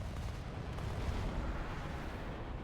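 Jet fighter cannon fire in a high-tier combat flight video game, near a J35, comes as a dense, continuous rapid rumble of shots that stays loud throughout without speech.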